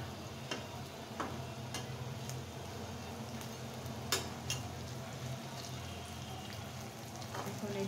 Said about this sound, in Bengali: পেঁয়াজ রসুনগুলো ভাজা হোক, আদা গেলো মজা একটা গন্ধ আসুক, শুকনো লঙ্কাটাও ভাজা হয়ে যাক।